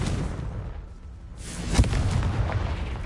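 A Confringo fire spell from the video game Hogwarts Legacy goes off in one sharp, booming blast after a brief lull. A rumbling crackle carries on under it for a moment.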